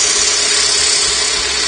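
Friction bowl sander pressed against a wooden bowl spinning on a woodturning lathe, giving a continuous, even, loud hissing whir with no breaks or talking.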